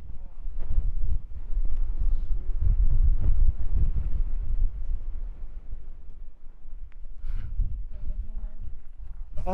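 Gusty wind buffets the microphone with a low rumble throughout on Cerro Negro volcano, while a person speaks intermittently over it.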